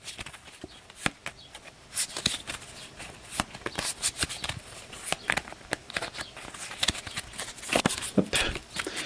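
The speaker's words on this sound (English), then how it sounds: "they'll shuffle up, and once again, they're going to draw another card" Playing cards for the sci-fi board game Undaunted 2200: Callisto being shuffled by hand, a run of crisp riffling bursts and soft patters close by, repeating across the whole stretch with no talk.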